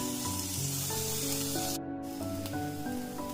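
Onions, ginger, green chili and peas sizzle and fry in hot oil in a pan, a steady close sizzling with a short break, no voices heard.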